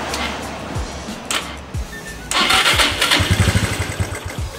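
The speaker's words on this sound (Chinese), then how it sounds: "那我们就直接来发动看看吧。" A Wolf 125 motorcycle with a weak battery and an electrical fault is cranked several times. The starter whirs in repeated loud, close bursts but the engine never catches.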